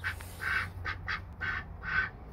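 Baby ducklings hatched by a mother goose on a farm, heard as a run of short, bright peeping calls in quick separate bursts, fairly close and alone over a low background hum.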